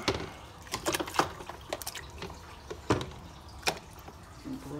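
Hydrogen peroxide is poured into a container holding a batch of Star Wars figures, making quiet, irregular splashes and drips with a few sharper clicks, faint and close by, with no talk.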